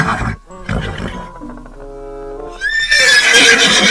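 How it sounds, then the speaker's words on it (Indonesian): Zebra call in a video game with animals, a loud, close braying whinny that breaks into a rising, strained cry, with no talk over it. "Wow, ini ada zebra"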